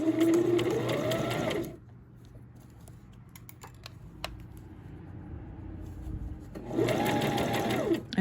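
A sewing machine stitching down the centre of twill tape runs in two loud, fast mechanical bursts at the start and end, with quiet clicking and handling noises in between.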